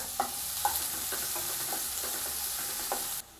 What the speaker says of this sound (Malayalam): ഇനി നമുക്ക് ഇതിലേക്ക് ഒരു പകുതി സവാള ചെറുതായിട്ട് അരിഞ്ഞത് കൂടി ചേർത്ത് കൊടുക്കാം